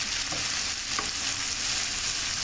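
Onions fry in butter in a pan with a dense, continuous close-up sizzle and a couple of faint stirring touches.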